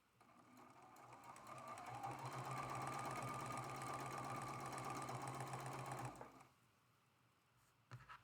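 A sewing machine stitches small quilt triangles together for a Beaming Star block, running steadily and close for about six seconds before stopping, followed by quiet handling noises and a brief clack near the end.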